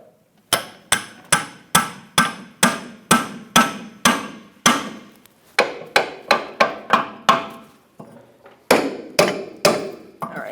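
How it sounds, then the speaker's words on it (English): Steel ball joint fork struck repeatedly with a hammer to split the rear knuckle joint on a 2013-2018 Toyota RAV4 2.5L, a run of about twenty sharp metallic blows, steady then briefly pausing before a final few hits, loud and close with no talking. "Now with like a ball joint fork, I'm just going to get right in here and separate it."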